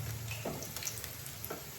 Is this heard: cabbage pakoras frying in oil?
yes